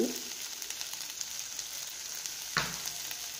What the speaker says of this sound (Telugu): కారం వేసి వేయించుకుందాం.